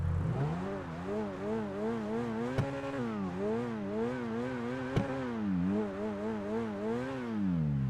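Turismo R sports car engine in GTA 5 Online, revving through repeated rising and falling sweeps with steady acceleration and quick gear shifts, a loud continuous drone close up with no talking.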